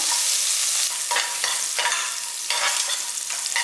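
Grated coconut sautéing in ghee for temple-style sweet pongal, a steady close sizzle with bursts of scraping and stirring recurring every second or so.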